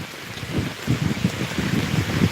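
Rain pours steadily in a Punjabi village, a dense continuous hiss with soft low patters and gusts, fairly loud and close with no voices.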